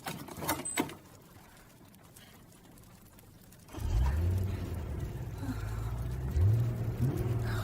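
A few sharp knocks, then a car engine rumbles up close and pulls away, its low drone swelling and holding steady.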